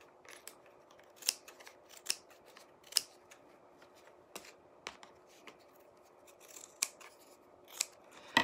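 Scissors trim excess fabric around an embroidery hoop, producing a steady series of crisp, close snips roughly once a second, alone without talk.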